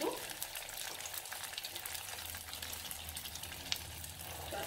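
Bread rolls fry in hot oil with a steady, dense sizzle and crackle that stays even throughout, close and fairly quiet, with no voices.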